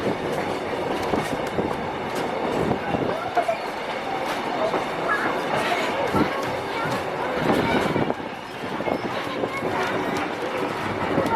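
The Kuranda Scenic Railway train rumbles and clatters along the rails, wheels clicking steadily as it rolls and slows to a stop, with voices talking over the noise.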